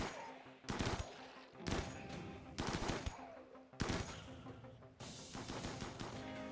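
Bursts of rapid gunfire from enemies attacking a colony in RimWorld, several loud volleys in quick succession with short pauses between them.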